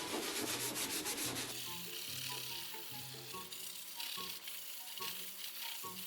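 A rough sponge scrubs the bottom of a pan in quick, rhythmic back-and-forth strokes, a close, gritty rubbing that continues steadily throughout.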